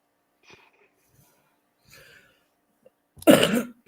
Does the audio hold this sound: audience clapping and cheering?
no